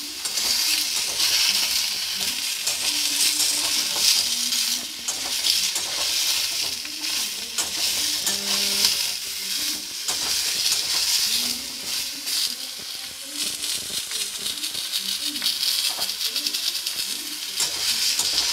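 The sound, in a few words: vegetable curry with chickpeas frying in a pan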